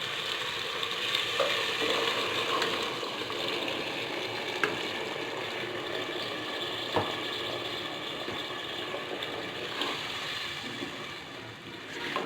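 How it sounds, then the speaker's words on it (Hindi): Black-eyed peas simmer in spiced water for a lobia dal, a steady soft bubbling and sizzling hiss from the pot with occasional small pops, close and continuous. "पानी भी इसके साथ ही ऐड करेंगे हम, और फिर इसको उबलने देंगे, पकने देंगे।"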